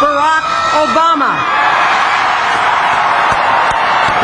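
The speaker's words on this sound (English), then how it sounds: "That is the crowd you're hearing, not static." A large crowd cheers and roars at the inauguration of President Barack Obama, a loud, dense wash of sound that swells after a short burst of voices at the start.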